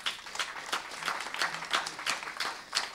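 An audience at a round-table event applauds as a speaker is invited up, giving moderate, fairly rhythmic clapping at a medium distance.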